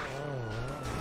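A police car siren in a GTA roleplay video game wails in a low, continuous tone over dense game background noise for about a second.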